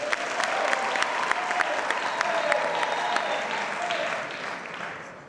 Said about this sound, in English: May we give ourselves a round of applause.